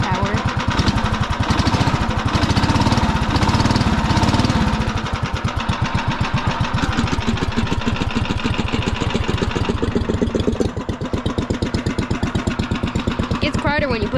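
Small 3 horsepower engine idling in a golf cart with its muffler removed, a loud, steady, rapid putter that barely varies, close by throughout.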